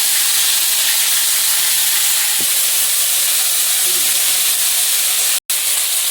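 Dried red chillies dropped into hot cooking oil give a steady, loud, hissing sizzle throughout, with a brief dropout near the end.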